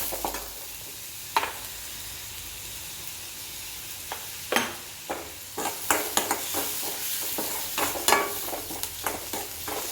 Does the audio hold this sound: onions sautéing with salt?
yes